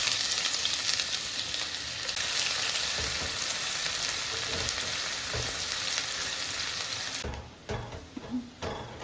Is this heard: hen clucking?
no